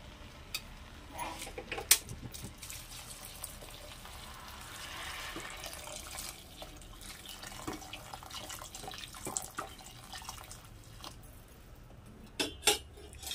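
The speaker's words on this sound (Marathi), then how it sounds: "त्यानंतर आता याच्यामध्ये आपण पाणी घालणार आहोत" Water pours into a metal pot of sautéed rice and field beans with a soft, steady rush, framed by a few clanks of cookware.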